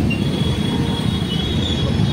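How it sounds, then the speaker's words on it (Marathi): Loud, continuous rumble and clatter of a train rolling past close by, with a faint metallic squeal running through it. "आता रेल्वे गेली आहे इथून"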